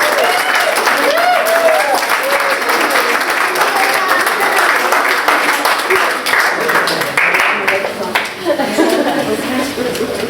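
Wedding guests applaud loudly and steadily right after the vows, a dense wash of clapping with some chuckles and voices mixed in throughout.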